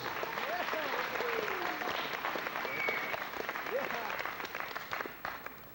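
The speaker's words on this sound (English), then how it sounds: "Big round of applause" A convention audience at a 1995 Star Wars Q&A breaks into loud, sustained applause and cheering after a costumed fan appears, the crowd noise rolling on before tapering near the end.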